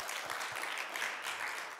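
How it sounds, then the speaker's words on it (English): Church congregation applauding after a sermon, a brief, faint patter of clapping from a roomful of people. "Let's give the Lord a round of applause."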